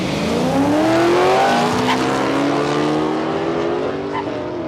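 Holden Monaro and Club Sport drag racing at Palmyra Raceway, the T56 six-speed worked hard as loud engine roar climbs and drops through gear changes, with a brief tire chirp midway.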